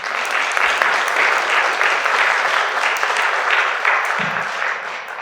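A school spelling bee audience gives a steady, even round of applause, a dense wash of clapping held at constant loudness throughout, with a faint low thump partway through.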